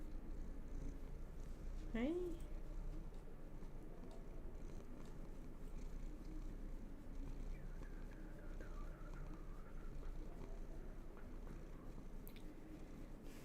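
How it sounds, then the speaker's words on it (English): A cat purrs close to the microphone, a steady low rumble running under a person talking nearby. "Oh, you're gonna purr into the microphone."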